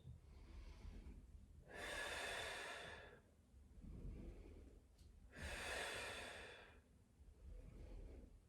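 Two deep, forceful breaths out through the mouth during push-ups in a post-lockdown strengthening workout, each a long rushing exhale, with softer in-breaths between them, close and clear.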